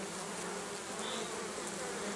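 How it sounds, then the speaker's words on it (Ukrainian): Dense, steady buzzing of honey bees crowding a full log hive, a continuous close drone with no pauses and no voices. "Ну ось колода повна забита бджолою."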